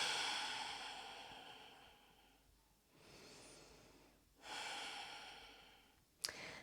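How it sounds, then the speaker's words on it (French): Slow, deep breaths during a yoga flow in standing mountain pose: quiet, close airy exhales and inhales in a calm rhythm, ending with a brief sharp sniff. "on prend quelques respirations ici pour démarrer"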